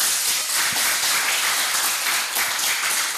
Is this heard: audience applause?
yes